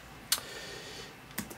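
Keystrokes on the soft keyboard of a Dell XPS 17 (9700) laptop come as two quick, light clicking bursts about a second apart, close and crisp against a quiet background.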